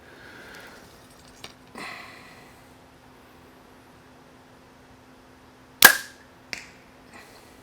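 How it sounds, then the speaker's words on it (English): An arrow shot from a Hoyt compound bow outdoors: one sharp loud twang and thwack near the middle, followed by a couple of fainter knocks, with soft rustles before it and quiet in between. "Second shot with the Hoyt."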